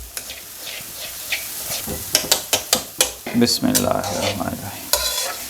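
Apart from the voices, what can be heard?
roasting churi crumbs in desi ghee, stirring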